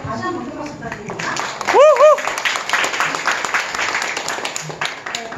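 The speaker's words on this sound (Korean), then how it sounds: "다시 한번 큰 박수 부탁드립니다" Audience clapping at a business seminar, moderate and scattered, with a brief whooping cheer and voices over it.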